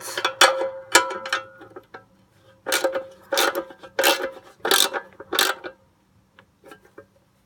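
A wrench tightens a 9/16 bolt on a Wright stander mower, making a series of close, scraping ratchet clicks in short bursts with brief pauses between them, no talking.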